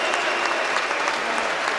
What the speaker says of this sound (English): And listen to that cheer